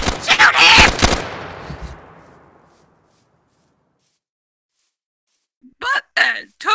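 A loud burst of rapid automatic gunfire from an MP5K submachine gun in the Minecraft Vic's Modern Warfare mod, trailing off into a reverberant echo, followed by silence and then a few more sharp, isolated shots.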